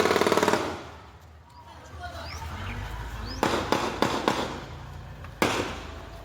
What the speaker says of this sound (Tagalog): umalingaw-ngaw ang sunod-sunod na putok